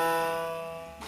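A voice imitates a ship's siren heading out to sea: one long, steady, loud hooted tone that holds for about a second and fades slightly before breaking off.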